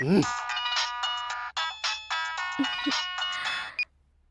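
A mobile phone on speaker sounds an outgoing call's ringing tone in a Telugu comedy scene, a bright repeating melodic ringtone in steady bursts that stops abruptly, with a brief voice at the start.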